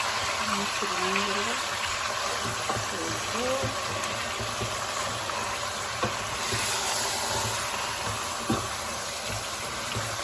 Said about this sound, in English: Okay, so the water is boiling.